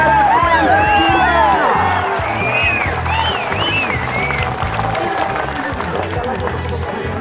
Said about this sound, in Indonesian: Kita beri semangat dan tepuk tangan lagi yang meriah saudara-saudaraku yang tercinta.